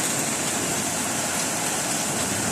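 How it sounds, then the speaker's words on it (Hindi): Dense, steady hiss of heavy night rain during a thunderstorm in Penang, Malaysia, pouring without a break, broadband and close, no voices or other sounds over it. "बारिश भी खूब बरस रही है।"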